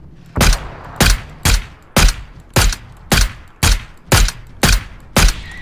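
Gunfire in a video game: ten sharp, loud single shots spaced about half a second apart in a steady rhythm, with short decays between them and no talking.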